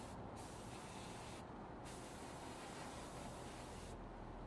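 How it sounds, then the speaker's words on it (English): A continuous hiss of aluminium aerosol spray paint on a 1/48 scale model aircraft part, steady and close, with a few brief pauses between bursts. "we're going to give our pitot tube a nice spray of"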